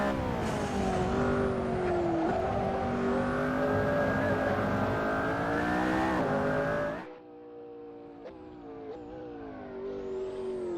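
A McLaren Senna in Assetto Corsa roars at high revs on street tires, a loud sustained engine note climbing through gears. It then drops sharply to a lower, quieter drone as the throttle eases and builds again near the end.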